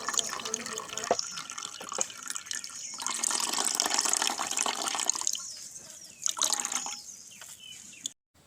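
Carrot juice is poured and strained, later through a clean white cloth, giving a continuous trickling, splashing flow of liquid with occasional drips, fairly close and alone.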